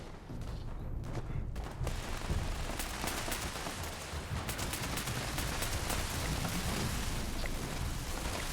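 Rapid gunfire from the video game Fallout 76, a dense, continuous volley of loud shots and crackling bursts that runs for the whole stretch, with no voices over it.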